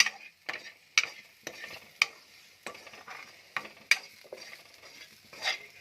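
Ingredients sizzle and fry in a pan while being stirred, with a sharp scrape or clack about every second over a low, steady sizzle, close and fairly quiet.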